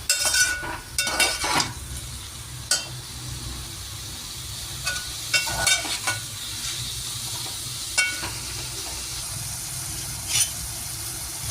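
Potatoes and tomato sautéing in a pan for khichuri, a steady close sizzle with scattered stirring scrapes and clinks of a spoon against the pan, no voices.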